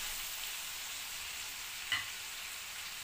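Mango powder and garlic are stirred in a pot, giving a faint, soft, steady frying hiss with one brief scrape of the spoon midway, quiet and without talk.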